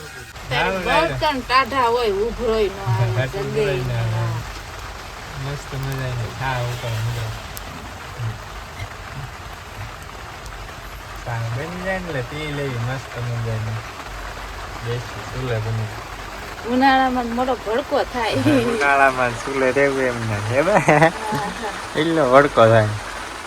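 Steady rain hisses in the background while people talk over it for the whole stretch, in a Gujarat village near Botad.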